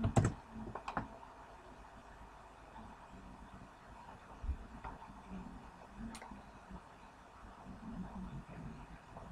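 Typing on a computer keyboard, with faint, irregular clicks and taps that are strongest in a burst at the start and then sparse and quiet over a low room hum.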